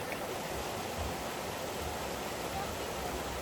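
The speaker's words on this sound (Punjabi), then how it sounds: "ਉਹ ਦੇਖੋ ਪਿੱਛੇ ਪਾਣੀ ਆ ਰਿਹਾ" Water flows steadily behind a small pool built for a deity's idol at a temple near Naddi and Dal Lake, a continuous close rushing wash with no break.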